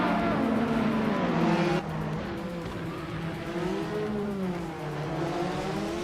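Race cars, among them a Lotus 100T, roar along in a racing video game, with a loud continuous engine whine that shifts in pitch as cars rev and pass, and a sudden drop in tone partway through, with no talk.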